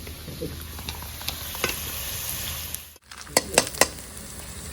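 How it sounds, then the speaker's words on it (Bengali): Onions fry in a pan with a steady sizzle, broken by a brief pause and then sharp scraping and stirring knocks of a spatula against the pan. "পেঁয়াজটা আমার ভাজা হয়ে গেছে, বেশি পোড়াবো না।"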